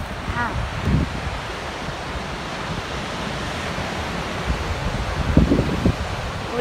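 Ocean waves wash steadily on a windy shore while wind buffets the air, forming a continuous broadband roar with a few surges; faint voices are briefly heard in the background.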